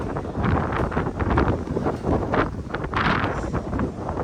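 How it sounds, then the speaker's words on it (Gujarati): Strong wind gusts outdoors in Ahmedabad, buffeting the microphone with a continuous, loud, rushing roar that swells and dips without pause. "મસ્ત બહુ જ પવન છે આજે અમદાવાદમાં."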